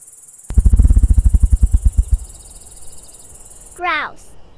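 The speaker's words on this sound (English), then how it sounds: "grasshopper," A grasshopper's loud, rapid stridulation of about two dozen pulses over roughly two seconds, fading into quiet, followed by a brief chirping call near the end.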